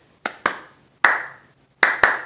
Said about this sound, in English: Great hand claps.